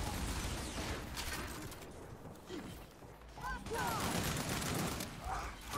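Gunfire in a ranked multiplayer match of the video game Gears 5: dense, rapid bursts of automatic shots and crashing impacts, loud and continuous with a brief lull midway.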